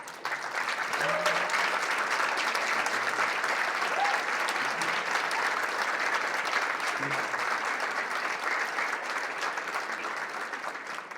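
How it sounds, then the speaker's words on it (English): At a leadership breakfast, a large audience gives JROTC instructors a long, even round of applause, loud and continuous throughout, with faint voices mixed in. "let's honor them and give them a round of applause"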